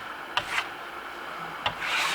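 A steel trowel rubs wax over metallic Venetian lime plaster in two short scraping passes with a pause between them, close and fairly quiet, with a broader smoothing stroke at the end.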